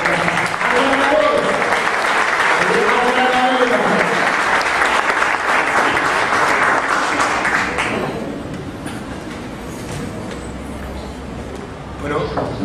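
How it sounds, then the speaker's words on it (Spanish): An audience applauds at a talk with the Peruvian ambassador in Argentina, loud dense clapping that holds for about eight seconds under a speaking voice before fading into quieter room sound. "Así que de vuelta vamos a aplaudir la aportación a veces"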